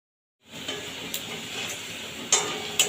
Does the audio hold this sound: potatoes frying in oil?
yes